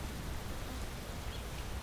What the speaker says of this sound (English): And it's still freaking raining.